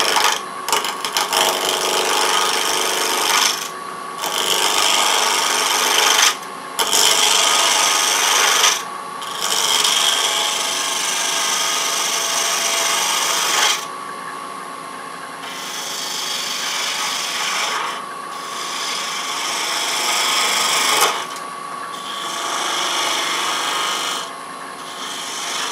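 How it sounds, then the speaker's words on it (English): A half-inch spindle gouge roughs down a spinning wooden blank for a three-legged stool on a lathe, giving a loud, continuous rasping scrape in long passes broken by brief pauses as the tool lifts away. "We're going to use a 1/2-inch spindle gouge to just kind of rough this"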